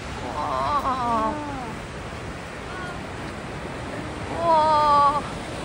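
Kegon waterfall in Nikko, Japan, roars as a steady distant rush in winter, while people nearby exclaim and chat over it.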